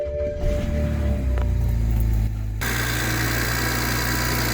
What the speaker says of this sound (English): without an engine cover, those injectors are quite noisy